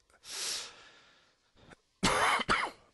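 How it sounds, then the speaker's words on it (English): A person coughs close by: one rough, breathy cough, a short pause, then a harsh burst of two quick coughs. "I'm really sorry about the coughing."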